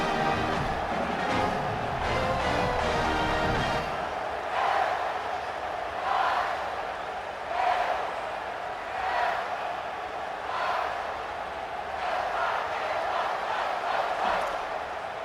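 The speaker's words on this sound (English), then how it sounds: "get the home crowd jacked up and get them excited" A home stadium crowd in the College Football 27 video game, at a Miami Hurricanes rivalry game against Virginia Tech, gives a steady roar that swells in regular rhythmic surges, as if chanting, with no clear talk.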